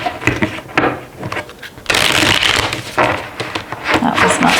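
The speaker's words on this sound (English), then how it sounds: "All right, one more quick shuffle." Tarot cards riffle in a quick shuffle, a dense papery flutter in bursts up close, with rustling and handling noise between the riffles.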